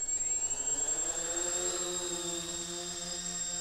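Electric motors of a VTOL model aircraft whine and hum as it lifts off outdoors in light wind, a steady close whirring whose pitch shifts gradually and eases slightly toward the end.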